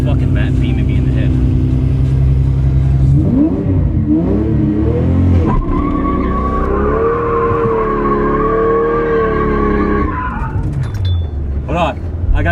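V12 twin-turbo widebody Toyota Supra doing donuts, with a loud engine revving and swooping in pitch over sustained tire squeal and skidding, then easing off near the end, with people talking nearby.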